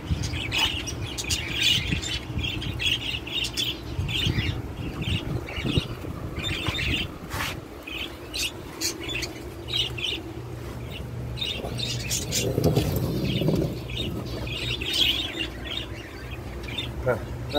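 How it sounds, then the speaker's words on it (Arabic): Pigeons, chickens and other birds calling inside a coop, frequent close chirps and squawks repeating over a steady background hum, with occasional clucks and a person talking at times. "عشان الطيور والدجاج والحمام يجي من برا، لأن في حمام يجي من برا"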